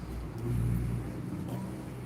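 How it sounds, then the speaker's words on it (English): Cars pass along a busy little street at night, a steady low rumble of traffic that swells and fades slightly, heard from nearby without any voices. "anything that's annoying really is the traffic at night that bums along here"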